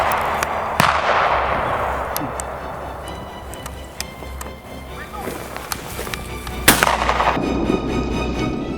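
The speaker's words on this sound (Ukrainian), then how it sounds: "з правого флангу пролунав постріл" Several sharp gunshot cracks from hunting rifles ring out during a roe deer drive hunt, one loud near the start and another near the end, over rumbling outdoor noise and scattered movement.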